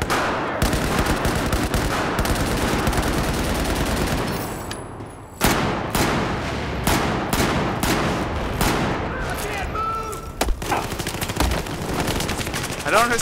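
Video game gunfire aimed through metal bars, a long stretch of rapid automatic shots that drops out briefly, then returns as a volley of sharp, distinct cracks.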